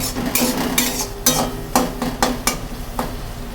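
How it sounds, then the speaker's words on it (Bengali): Spice paste fries in oil for a Bengali boal fish roe curry, a hissing sizzle broken by several sharp scraping strokes of a spoon stirring against the pan, close and busy. "মশলাটা যতক্ষণ ভেজে তেল না ওঠে ততক্ষণ পর্যন্ত নাড়াচাড়া করতেই হবে"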